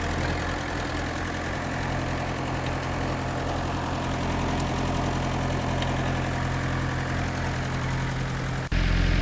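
A really old tractor engine idles steadily and close by, with a low, even chugging that holds throughout. Near the end the sound cuts out briefly, then returns.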